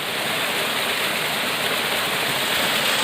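A waterfall roars in a steady, dense rush of white water, loud and close throughout, with no talk over it.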